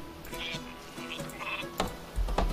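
Sheep bleat in the video game Northgard, several short bleats scattered across the moment while someone talks over them.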